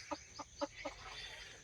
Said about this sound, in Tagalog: Ito na rin yung aking inahin na isa.